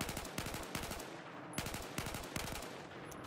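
An M4/M16A4 assault rifle in Battlefield 4 fires repeated rapid three-round bursts, loud and close, evenly spaced across the clip with a brief mechanical reload sound near the end.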